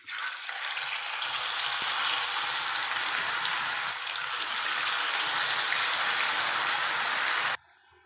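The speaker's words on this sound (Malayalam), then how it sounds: "നമുക്കിനി ചിക്കൻ അതിലേക്കിട്ട് ഒന്ന് വറുത്തെടുക്കാം" Chicken pieces frying in hot oil in a pan for a chicken roast, giving a loud, steady, dense sizzle that runs unbroken for about seven and a half seconds, then cuts off abruptly.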